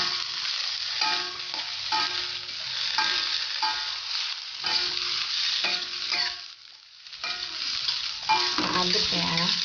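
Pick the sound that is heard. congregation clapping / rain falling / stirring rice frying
stirring rice frying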